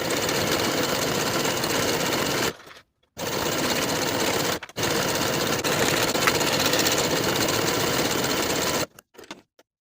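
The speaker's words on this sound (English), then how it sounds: "Then we can sew our crotch curve with a 1/4 inch seam allowance using the same stretch stitch as before." A sewing machine runs a stretch stitch along the crotch curve of stretchy leggings, whirring loud and close in fast rapid bursts, pausing briefly twice before stopping, with no talk.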